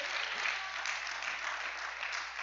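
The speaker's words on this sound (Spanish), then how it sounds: "Denle un aplauso al Rey." Steady applause from a church congregation, a dense, even wash of clapping that holds at a constant level throughout without any voices standing out.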